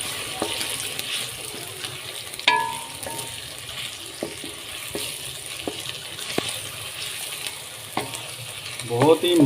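A soft, steady sizzle of ginger garlic paste frying in a pan, with occasional stirring clinks and scrapes; quiet and close, no voices.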